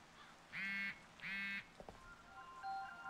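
Two short electronic phone ringing tones from the VR game Contagion VR: Outbreak sound in succession, each a buzzy, harmonic burst, followed by a faint clatter and a quiet high beep.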